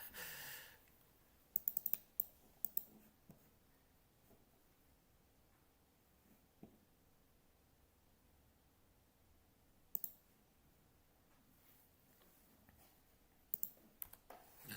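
Clicking of a computer keyboard during a trading session, with short scattered bursts of quiet keystrokes separated by long near-silent gaps.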